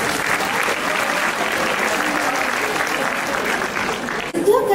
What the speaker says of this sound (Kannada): ಚಪ್ಪಾಳೆಗಳಿವೆ